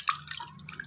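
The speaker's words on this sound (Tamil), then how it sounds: "இப்போது இந்த பருப்பை தூக்கி இதில் ஊற்ற போகிறோம்." Cooked dal is poured into tamarind water for a drumstick-leaf sambar, giving a brief, faint series of wet drips and small splashes lasting under a second.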